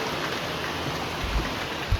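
Heavy rain pours steadily in a dense, continuous hiss onto a flooded street in Talegaon, with no voices.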